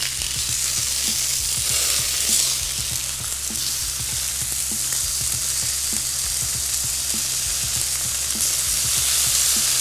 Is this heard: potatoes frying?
yes